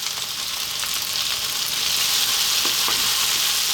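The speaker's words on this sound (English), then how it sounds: "we're now going to try and fry these off for about 4 minutes" Potatoes frying in a pan for a chickpea potato curry, giving a continuous close, bright sizzle with small crackles and pops, no voices.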